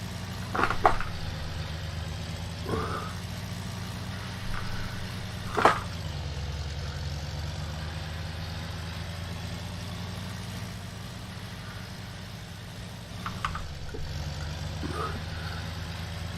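A vehicle engine idles steadily with a low rumble, with a few brief revs and gear-change bumps rising over it.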